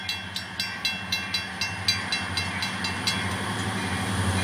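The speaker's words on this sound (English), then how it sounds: "No, not another train." A train passes in winter blizzard conditions, wheels clacking in a regular rhythmic series over rumbling rail noise and hiss, moderately near and steady, with no talk.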